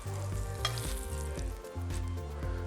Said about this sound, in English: That is searing tuna loin.